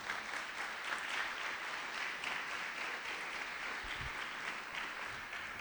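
A church congregation applauding during an evening worship service, a steady wash of many hands clapping at moderate distance, sustained evenly throughout with a soft low thump partway through.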